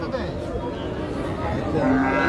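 Cattle moo at a busy morning livestock market where cows are being bought and sold, a low drawn-out call near the end of a short stretch of background chatter and crowd murmur.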